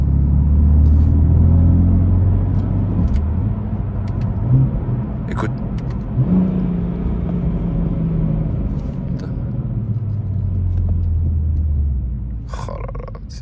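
A BMW M3 Competition's engine rumbles and roars at close range while driving, rising and easing through changes in revs, with a brief spoken word over the steady drone of the car.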